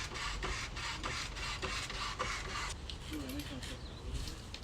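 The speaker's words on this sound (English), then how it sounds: "You wanna jack it up so I can get the wheel on?" A car jack raising a Subaru WRX: a close, rapid train of regular scraping, ratcheting pulses that shifts to a softer, steadier texture partway through.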